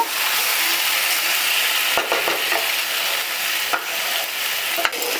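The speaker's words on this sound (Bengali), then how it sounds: "মাংসটা বেশ কিছুক্ষণ এইভাবে নেড়ে চেড়ে আমি ভালো করে কষিয়ে নেব।" Meat cooks down in a hot pan with spices, a dense, loud sizzle that holds throughout while a few sharp spatula scrapes cut through near the middle and end; nobody speaks.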